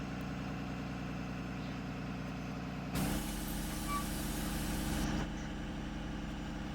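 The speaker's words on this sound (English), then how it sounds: "when you close your doors, your bus will go in high idle as well" A Thomas Saf-T-Liner C2 school bus in Rigs of Rods hums at a steady idle, then rises to a brighter high idle for about two seconds before settling back to its low drone.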